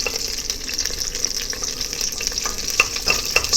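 Whole spices sizzle and crackle steadily in hot oil for chicken machboose, with a bright continuous hiss, occasional sharper pops and a faint clink of stirring near the end.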